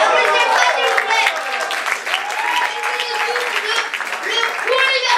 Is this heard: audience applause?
yes